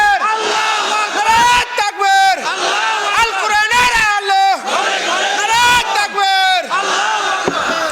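A large crowd roars a loud collective takbir response at a Bangla religious sermon, several surging group shouts in quick succession with brief dips between them, filling the whole stretch.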